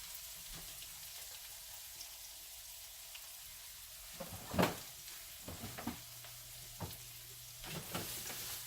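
Food sautés in a pan with a steady broadband sizzle, broken by a few sharp utensil clanks and stirring scrapes near the middle and end, close and moderate in level.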